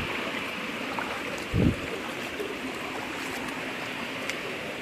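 Water from a spring flows in a continuous low rushing wash, steady and close, with one brief louder splash or bump partway through and no voices.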